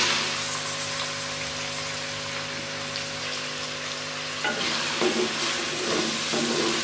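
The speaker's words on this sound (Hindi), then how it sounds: "इसी ऑयल में अब मैं प्याज डाल दूँगी" Onion frying in oil in a pan for a tindey bhujia dish, a steady dense sizzle throughout that grows louder and crackles more sharply partway through, with light stirring scrapes near the end.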